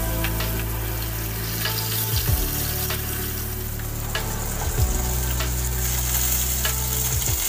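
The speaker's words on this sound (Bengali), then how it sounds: "তেল গরম হয়ে গেছে, এখন আমি মাছটা ছেড়ে দিচ্ছি" Katla fish pieces hiss and sizzle steadily in hot mustard oil, a dense close frying crackle with a few brief clinks and shifts as the fish settles in the pan.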